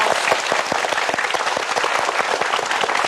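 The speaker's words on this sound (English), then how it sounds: "please give Adam a applause" Applause from an audience at a motivational talk by Adam Khoo, loud sustained clapping from a large crowd with sharp individual claps standing out.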